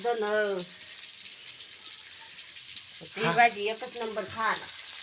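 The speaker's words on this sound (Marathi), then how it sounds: "आजीने वांग्यामध्ये मसाला भरून टाकलेला आहे कढईमध्ये आणि बटाटे वरून टाकत आहे" Brinjals stuffed with a roasted sesame, chilli, onion, coriander and coconut masala fry in a wok with potatoes added on top, a steady close sizzle running throughout while someone talks over it at the start and end.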